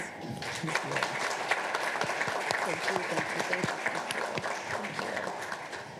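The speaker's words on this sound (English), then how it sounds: "give her another round of applause" Banquet audience claps warmly for a keynote guest, dense steady applause filling the room at moderate loudness with scattered crowd voices mixed in.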